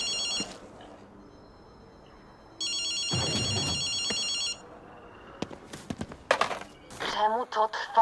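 An old telephone rings in the video game Ghostwire: Tokyo, two bursts of bright electric bell ringing, followed by clattering hoof-like footsteps and a spoken voice.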